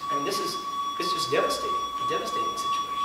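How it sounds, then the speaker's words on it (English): A fire alarm in a council meeting room sounds as a steady, piercing electronic tone that runs unbroken beneath a man's continuous speech. "there's probably a fire alarm"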